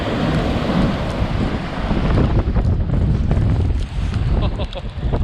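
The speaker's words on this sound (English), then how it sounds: "These waves are huge." Huge storm-driven waves pound Queensland Beach during Hurricane Dorian, a loud, continuous roar of surf churned with heavy wind buffeting the microphone, sustained throughout.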